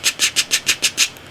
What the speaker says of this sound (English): that's the sound of a generator being touched.